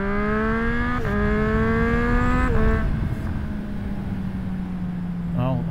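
A 2024 Triumph Street Triple with a Yoshimura slip-on exhaust revs loud and close, climbing through several smooth pulls with brief drops between them, then settles toward a lower drone before a short final blip, with no talking.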